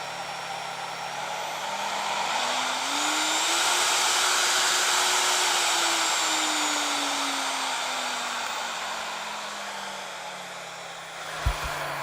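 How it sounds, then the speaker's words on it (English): Handheld router motor whose speed is set by a dimmer-style dial, its steady whine climbing in pitch, holding high, then sliding back down over several seconds, with a small click at the end and no talking. "you'll hear the speed ramp up and down"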